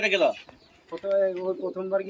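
Andhra pigeons kept at a home loft coo close by in a few short, throaty bursts, with a brief lull between calls.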